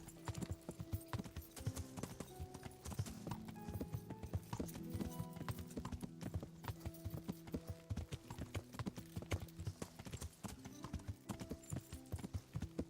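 Horse hooves clip-clop in a steady, brisk rhythm over a hard surface in the video game Kingdom Come: Deliverance, continuing for several seconds alongside a tonal musical backdrop.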